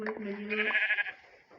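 A single sheep bleat in the video game Minecraft, close and clear, wavering for about a second before trailing off.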